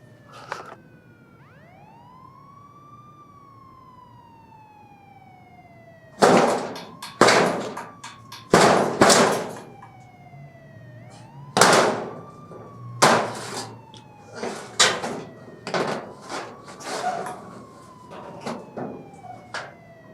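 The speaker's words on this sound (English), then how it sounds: "I hear the sirens scream in the night." A wailing siren rises and falls steadily in the distance at night, joined after a few seconds by loud, sharp banging impacts close by, from a horror film.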